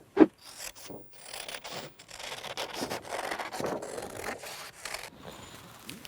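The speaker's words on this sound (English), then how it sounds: "cut that out with my scissors" Continuous rustling and snipping of scissors cutting through paper, close up, with uneven scraping strokes and no talking.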